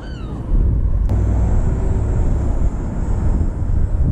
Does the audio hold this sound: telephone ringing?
no